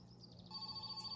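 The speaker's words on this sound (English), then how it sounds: "Shut up, phone." Phone ringing in the video game My Summer Car, a steady electronic ring tone repeating over the second, fairly faint against a low background hum with no talk.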